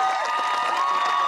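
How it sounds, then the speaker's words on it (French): Brief, dense crowd applause and cheering for workers fills the space loudly and steadily, with whistles or shouts rising above the clapping. "Un tonnerre d'applaudissements pour nos ouvriers."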